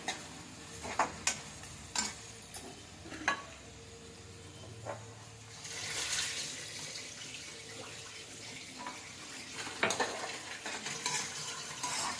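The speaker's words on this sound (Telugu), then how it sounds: "వేపుతూ ఉంటే కొంచెం" Stirring and scraping in a pan over a soft sizzle, with a few sharp clinks early on and a steadier frying hiss building later.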